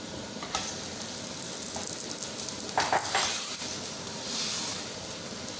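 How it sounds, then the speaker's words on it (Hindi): Chicken frying in a pan of light-brown onions for a masala biryani, giving a steady, close sizzle and hiss with a few brief louder stirring scrapes partway through. "अब 5 मिनट तक चिकन को इसमें भूनेंगे।"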